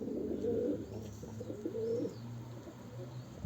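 Pigeons cooing nearby in soft, repeated low coos with a steady background hum and a few faint chirps.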